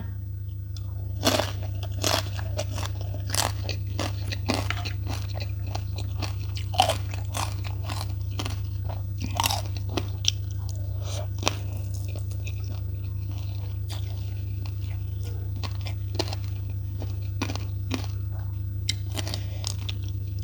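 Close, crisp crunches of someone biting into and chewing crispy deep-fried pork leg, repeated bites and chews spread over a low steady hum.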